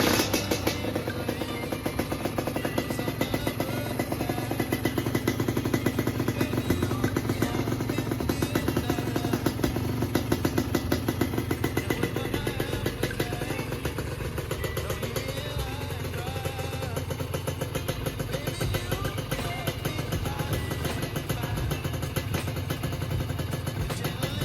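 A two-stroke motorcycle fitted with a Super Cobra Ninja stainless exhaust, its engine running steadily and revving with a raspy, crackling, loud drone sustained close by for the whole stretch.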